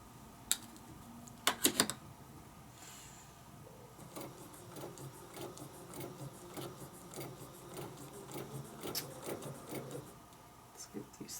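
A sewing machine stitches around a Westalee embroidery design with rapid mechanical whirring and ticking, preceded by a few sharp handling clicks, fairly quiet and close.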